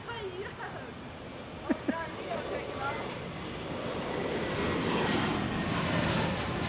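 Delta Airbus A321neo taking off from Phoenix Sky Harbor, a broad jet roar building steadily from moderate to louder over several seconds, with a couple of sharp knocks early and people talking intermittently over it.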